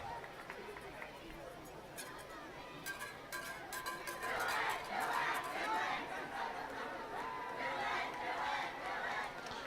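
A crowd at a night high school football game between Cloudland and GP, a distant hubbub of chatter that swells midway into louder cheering and stays raised, heard in the open air without clear words.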